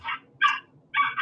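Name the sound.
dog barking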